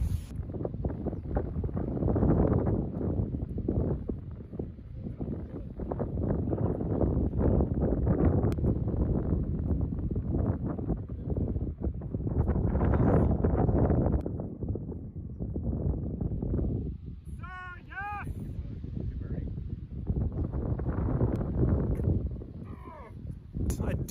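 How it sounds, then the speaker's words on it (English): Strong wind gusts across a golf course, roaring and buffeting the microphone in heavy surges, with people talking over it and a brief bird call partway through. "It's so windy out here."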